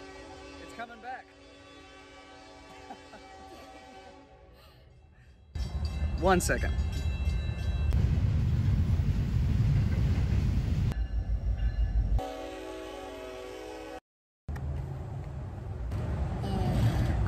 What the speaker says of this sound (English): Oh, there's another train. It's coming back.